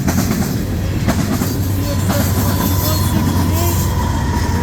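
A CN freight train passes at Ladysmith, Wisconsin, close and loud, with a steady roar and the rhythmic clack of wheels over rail joints, plus occasional faint wheel squeals.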